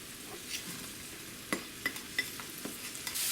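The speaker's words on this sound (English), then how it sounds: "Once you've got your butter melted, you can pour in your peppers." Peppers, onions and chicory fry in melted butter in a pan while being stirred, a soft continuous sizzle broken by a few sharp scraping and clacking stirring noises.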